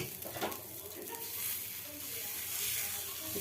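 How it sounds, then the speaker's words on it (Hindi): Dosa batter poured onto a hot tawa sizzles in a low, steady hiss with faint scraping as it spreads, quiet and close. "पोंछने के बाद इसके बैटर को डालेंगे।"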